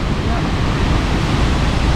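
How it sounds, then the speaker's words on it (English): Steady broadband rush of the upper waterfall in North Cascades National Park, pouring through a small hole in the rock near Newhalem, loud and continuous without pause. "Oh, looks like the upper falls is coming through a little hole in the rock there."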